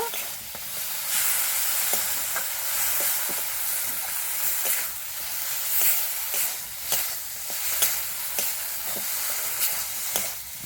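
Masala for potato kofta curry sautés in a pan with a bright continuous sizzle, while a utensil stirs and scrapes in a quick irregular rhythm of small knocks, close and alone.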